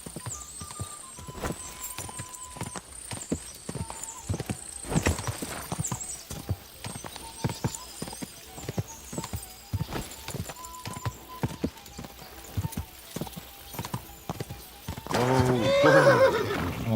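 A horse gallops with rapid, steady clip-clop hoofbeats and neighs several times in the video game Kingdom Come: Deliverance II, loud and close, ending in a louder burst of whinnying and commotion.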